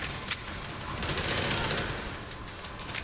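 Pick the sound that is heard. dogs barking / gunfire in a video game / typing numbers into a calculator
gunfire in a video game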